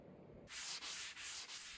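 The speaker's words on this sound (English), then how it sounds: "I sanded the whole edge with a 320 grit sponge" A 320 grit sanding sponge rubs along the filled edge of a mid-century wooden bureau desk, giving steady close hissy strokes with brief dips between passes.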